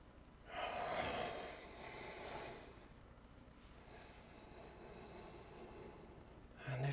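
Deep breathing during a hip-hinging yoga stretch, with one strong, close inhale-like rush followed by softer, slower airy breaths, no speech.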